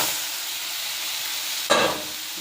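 Fish oil with chili powder sizzles softly in a pan as it is stirred, a steady low hiss broken by one brief louder surge of spatter and scraping toward the end.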